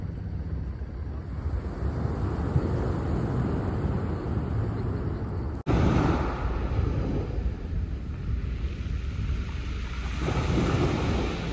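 Seaside surf washes in a continuous, steady roar along the shore, broad and even with wind buffeting the microphone throughout.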